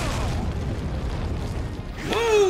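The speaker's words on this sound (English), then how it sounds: "I'm gonna grenade the shit out of him." A grenade explosion in Resident Evil 4, a deep boom under steady game noise, with a sharp burst and falling ring near the end as someone speaks.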